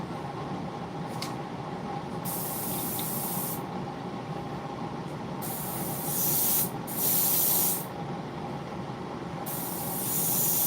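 Hissing bursts from a spray can releasing a thick substance onto a model kit, a steady rough rasp broken by several louder spray blasts of a second or so, with no talk.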